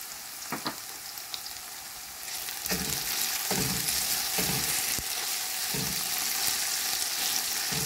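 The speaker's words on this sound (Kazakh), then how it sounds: "Көп май емес, азырақ майға қуыру керек." Food fries in a small amount of oil in a pan, a steady close sizzle that grows louder partway through, broken by several soft knocks and scrapes of stirring.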